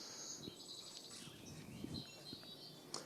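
Birds singing around garden hedgerows, scattered faint chirps and tweets over a soft outdoor background, distant and quiet.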